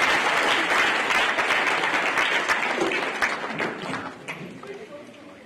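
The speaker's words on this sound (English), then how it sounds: "I'd like to ask you please to warmly applaud as he comes to make his address" An audience at the Africa Health Workforce Investment Forum applauds a speaker heading to the podium, the clapping steady and full at first, then thinning and fading out over a few seconds.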